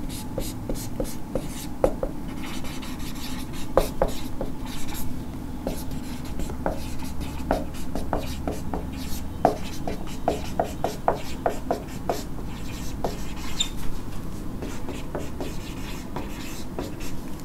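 Chalk or marker scratches across a board in a physics class, a sequence of short, sharp strokes and taps in uneven rhythm, close and fairly loud, with faint room background and no speech.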